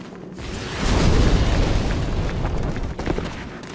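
A fire spell cast in Demon's Souls, heard as a single deep, roaring burst that swells quickly and then sustains as a rumbling whoosh for a few seconds, loud and close with no talking.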